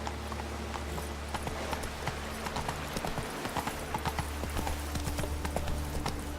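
Hooves of Roach, the horse in The Witcher 3 video game, clip-clopping in a steady walking rhythm, fairly close and clear over a low ambient hum.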